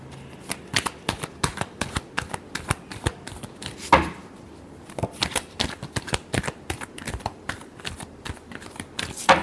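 Tarot cards being shuffled close up, a rapid run of crisp riffling snaps and flicks that pauses briefly near the middle before the crackling shuffle resumes.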